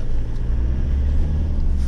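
Car climbing a steep mountain road toward Pangot, its engine a steady low rumble and drone close by, with no talk over it.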